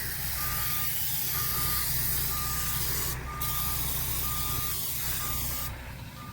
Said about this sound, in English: Spray this on, give her a spray here